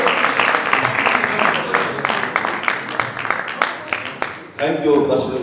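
Audience at a pastors association meeting of Hosanna International Ministry in Dhina claps in a scattered, uneven patter that thins out over a few seconds, while someone speaks over it.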